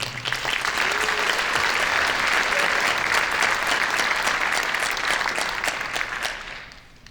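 A concert audience at a community show band's jazz and love songs performance claps in a sustained, dense round of applause that swells and then tapers off near the end.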